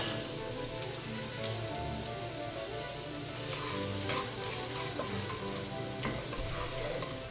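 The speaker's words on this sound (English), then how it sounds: "When the oil's hot enough, put in your aromatics and stir fry it for a few seconds." Onion, garlic and green onion stir-frying in hot oil for fried rice give a steady, dense sizzle and crackle throughout, growing slightly louder midway, with no talking.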